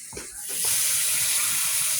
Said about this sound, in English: I give it a real good rinse with warm water, and then I rinse it with cold water